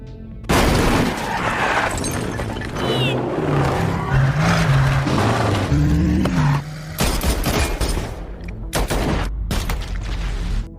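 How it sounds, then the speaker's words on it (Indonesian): A car chase with gunfire from the film Silent Night: bursts of rapid shots, crashes and booms pile over racing engines and a low musical score, all loud and dense throughout. "Hingga terjadilah aksi kejar-kejaran, yang diwarnai baku tembak."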